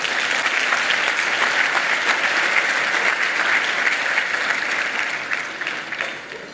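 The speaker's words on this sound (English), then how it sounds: "Round of applause, please, if you can." Sustained applause from an audience at the Multicultural Apprenticeship Awards 2023, a dense, steady wash of clapping that holds loud for several seconds before tapering off near the end.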